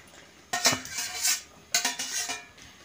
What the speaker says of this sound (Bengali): আলু আর মটরটা আমি একসঙ্গে দিয়ে দিচ্ছি।